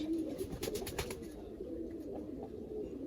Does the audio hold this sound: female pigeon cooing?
yes